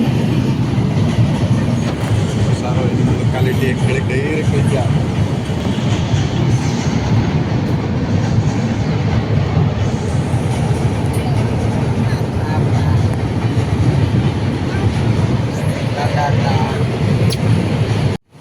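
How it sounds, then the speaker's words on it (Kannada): A passing train heard from inside a stopped train in West Bengal: a loud, continuous rumble with rhythmic rail clatter that holds steady for the whole stretch, then cuts off abruptly at the end. "ಅಲ್ಲಿ ಟ್ರೈನ್ ಹೋಗ್ತಾ ಇದೆಯಲ್ಲ ಅಂತ ನಿಂತಿದೆ ಅಷ್ಟೇ"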